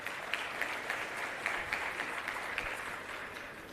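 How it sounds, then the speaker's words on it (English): Conference audience at a national occupational health and safety event applauding the Chief Inspector, a steady mass of clapping at moderate distance, fairly soft, with slight surges throughout and no voices over it. "Please, a round of applause for the Chief Inspector."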